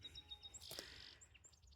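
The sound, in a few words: chorus of birds singing in morning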